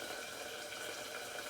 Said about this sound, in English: I'm dumping some of the water out, but not all of it.